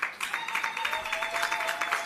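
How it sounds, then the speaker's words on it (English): Audience at a South Africa rural investment summit clapping for the Queen of the Ndebele Kingdom coming on stage, steady rhythmic applause heard at a moderate distance, fairly faint, with no talking. "Keep clapping until she arrives."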